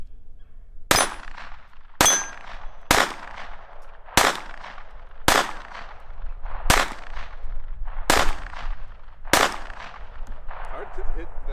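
Nine sharp shots from a Ruger LCP II .22 LR pistol fired at a target, spaced roughly a second apart in a steady rhythm, each a loud crack with a short ringing tail, outdoors.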